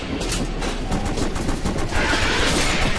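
Continuous rapid gunfire from House of the Dead Overkill, a dense, loud, unbroken stream of shots aimed at a boss's eyes, with a rumbling, train-like background underneath.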